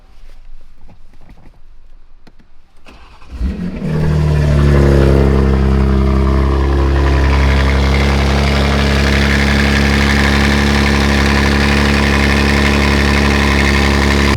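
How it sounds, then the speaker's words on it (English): A BMW M2 cold start: quiet shuffling first, then the engine cranks and fires with a loud burst before settling into a high, steady, strongly droning idle, close by and with no one talking. "so you guys can hear a nice, beautiful cold start before I go and get my alignment done"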